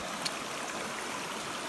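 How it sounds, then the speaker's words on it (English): A waterfall rushes in a steady, dense hiss of falling and splashing water, close and continuous with no voices over it. "This is a beautiful waterfall."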